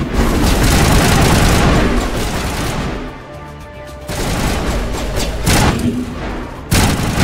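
Grenade blasts and gunfire in Mass Effect Legendary Edition: heavy booms and rattling shots pound close and loud, dip briefly into a quieter lull, then return with more sharp impacts.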